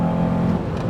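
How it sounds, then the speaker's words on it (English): A modified Honda Accord Type S engine snaps through short gears, a loud, close engine note that drops in pitch partway through, then carries on steadily for about a second. "literally just instant changes through all the gears"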